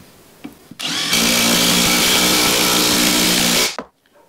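A power drill drives a 40 cm screw through two stacked 20x20 cm wooden beams, one loud steady whine lasting about three seconds, close to the microphone, with a short start and a quick stop.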